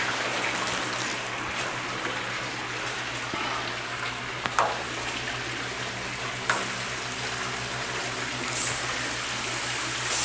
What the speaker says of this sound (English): What you want to hear is a little sizzle when you throw it on.